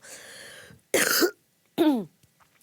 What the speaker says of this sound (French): Ma petite toux.